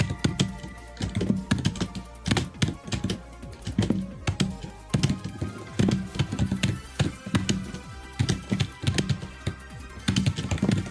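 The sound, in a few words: computer keyboard typing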